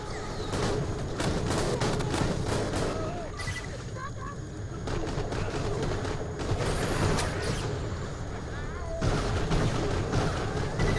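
A Gatling gun is fired from the hip in the shooter game Borderlands: The Pre-Sequel, giving dense, continuous rapid fire with blasts and impacts layered over it. The loud barrage keeps going with almost no pauses.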